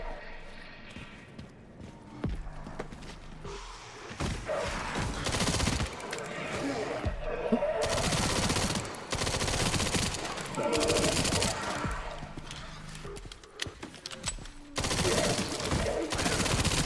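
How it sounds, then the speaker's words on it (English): Machine gun fire in the video game Resident Evil Requiem, crackling bursts that come and go in loud stretches, mixed with heavy game effects and a voice talking in places. "Let's play fight machine guns with machine guns"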